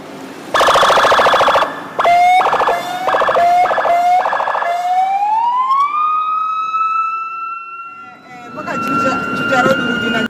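An ambulance siren wails close and loud, first in rapid stepped bursts, then a long rising tone that holds steady before fading, with a brief stretch of background noise at the end.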